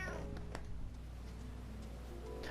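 A cat meows in Final Fantasy XIV, a few short, quiet mews over a low, steady background hum of game ambience.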